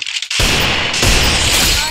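Gunfire in a mobile battle-royale shooter, with a headshot taken with a gun picked up in a desert area: a loud, dense burst of shots running nearly continuously for about two seconds after a short quiet start.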